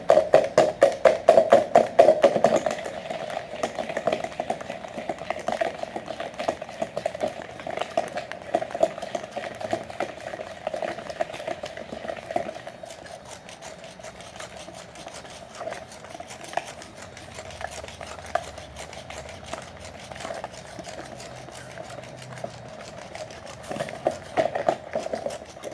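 An electric mixer whirs steadily through a batter of sugar, eggs and milk for a sweet Somali kac kac, with a constant motor hum, rattling bursts early on and ticking against the bowl throughout, no talking.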